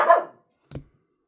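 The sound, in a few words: dogs and puppies barking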